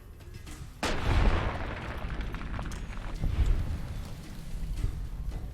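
Pistol shots in the video game Fallout: New Vegas: a sharp report followed by a couple more booming shots with heavy low-end thump, spaced irregularly over a rumbling background.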